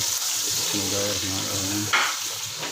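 Steady sizzling of spices tempering in hot oil for haleem, with a brief clink and a short hum partway through.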